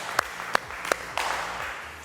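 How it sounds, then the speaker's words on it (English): A few loud separate claps from exercise class participants, roughly four evenly spaced claps, then a soft patter of scattered clapping under a steady room background. "Clap it up for yourselves."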